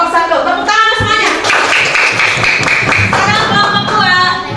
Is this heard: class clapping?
yes